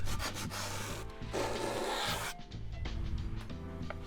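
Steady back-and-forth rubbing and scraping as skateboard grip tape is sanded along the board's edge, close up, with a humming musical backdrop and no speech.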